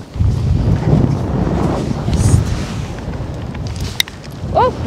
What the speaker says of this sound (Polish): bo wieje